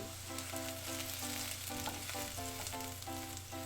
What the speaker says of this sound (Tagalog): Itutuloy lang natin ang paggisa. Gamit ang high heat hanggang sa mag-umpisa na mag-brown itong bawang.